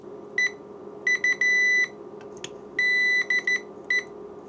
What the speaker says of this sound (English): Oh dear. Beeping noises.